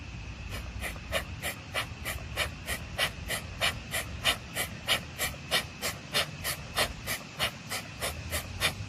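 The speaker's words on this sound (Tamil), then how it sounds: "ஒரு மூக்கு அடைச்சிட்டு ஒரு மூக்குல மூச்சு விடுறீங்க" Alternate nostril breathing: rhythmic, steady airy inhales and exhales alternating in a regular pattern, close to the mic, with a soft hissy quality and no talking.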